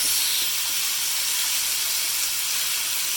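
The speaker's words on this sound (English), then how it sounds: "Then we're going to put our chicken in to cook. Wow. Listen to that sizzle." Chicken sizzles in a pan with a steady, loud hiss that never pauses.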